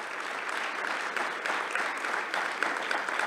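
Dense, steady applause for staff at an anniversary event, a continuous wash of many hands clapping at moderate volume with no voices on top.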